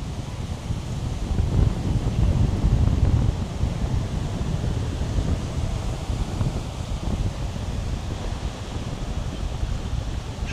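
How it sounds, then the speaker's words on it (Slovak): Strong outdoor wind buffets a camera microphone in a continuous low roar and rumble, swelling in gusts early on and then settling into a steady blustery rush with no voices. "ten vietor začína byť dosť silný"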